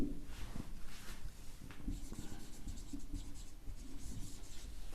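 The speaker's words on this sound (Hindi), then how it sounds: "यहां पर ब्रैकेट में लिखेंगे" Steady, close scratching of writing on a board goes on in quick strokes throughout, fairly loud and with no speech over it.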